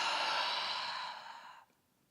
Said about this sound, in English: Take a breath in and out.